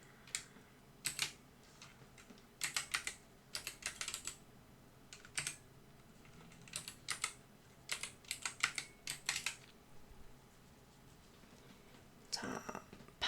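Bursts of typing on a computer keyboard while English text is entered in a PowerPoint exercise. Clusters of quick clicking keystrokes are separated by short pauses, fairly close and alone.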